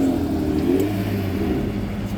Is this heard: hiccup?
no